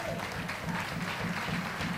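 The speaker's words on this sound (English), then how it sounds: "Let's give Maxwell a round of applause." An audience claps in a live stage revue, a brief, steady patter of applause from a full room, with a faint voice beneath it.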